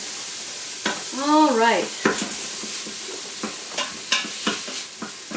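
Chicken gizzards are stirred in a hot pan with a spoon, with repeated scraping strokes over a steady sizzle of frying, close up, and someone briefly speaks near the start.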